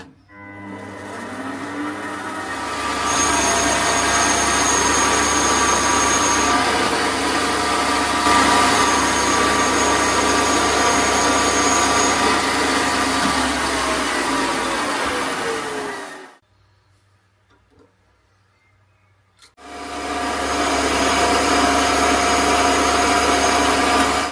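A Chinese lathe turns Chinese crank webs for a homemade 180cc two-stroke boxer engine crankshaft. The loud, steady machine whir and cutting noise cuts out briefly to near silence, then starts up again.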